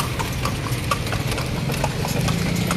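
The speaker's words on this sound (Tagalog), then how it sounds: "Uy, dami horsey horse." Horses clip-clopping along a street in Vigan, Philippines, a steady, even beat of hooves nearby over a low idling engine and street murmur.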